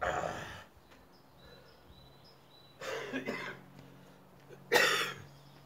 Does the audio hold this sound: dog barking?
no